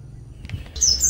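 A pleci white-eye bird lets out high, thin chirps at sunrise, a couple of quick clear notes close by over a low background hum.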